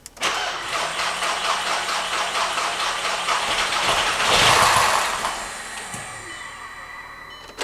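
A Volkswagen Jetta with a low battery cranks over and over, its starter churning in a rapid, loud, rhythmic whir that swells before fading and stopping, heard close up with no talking.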